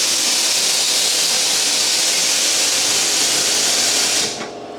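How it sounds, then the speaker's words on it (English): Air compressor running in a garage workshop, a loud, continuous broadband hiss and roar that holds steady and then cuts off abruptly near the end. "Sorry about the air compressor."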